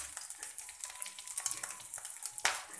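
Whole cumin and turmeric powder sizzling in hot oil for a bhetki fish curry with cauliflower and potato, a faint continuous crackle and spatter with light stirring clicks and one sharper pop near the end.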